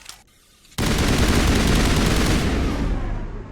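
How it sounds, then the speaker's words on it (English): Assault rifle gunfire in the Mass Effect video game, a loud continuous automatic stream starting abruptly after a quiet moment and holding steady for several seconds. "It is an assault rifle."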